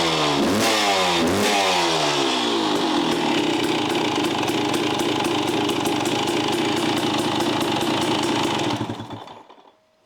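A KTM enduro motorcycle engine after an idle adjustment, set to a slightly fast idle, with two quick revs at the start, then a steady, loud, close, rapid two-stroke putter that cuts off near the end.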